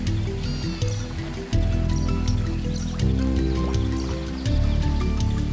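Wet slurping and dripping water sounds mixed with low rumbling noises, continuous and close, like an elephant drawing water up with its trunk.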